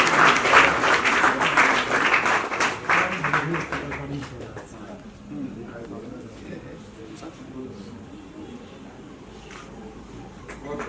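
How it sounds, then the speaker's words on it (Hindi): Loud applause breaks out at a Savitribai Phule National Education Award ceremony held by Delhi University, then thins into softer scattered clapping under nearby talk and room murmur. "जोरदार तालियों से उनका अभिनंदन किया जाए।"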